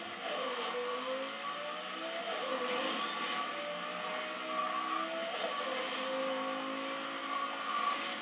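A race car in Need for Speed Undercover on PS2/Wii engine-roars steadily through a race, its revving tones rising and shifting, with fairly quiet game engine noise and no talk.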